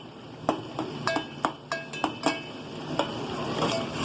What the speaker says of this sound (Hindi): और अच्छे से भुनाई कर लूंगी, घोट दूंगी टमाटरों को